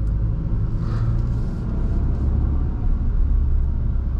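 Low, steady engine and road rumble inside a moving Ford Focus RS on a bumpy road, a constant deep drone with faint rattles and no talking.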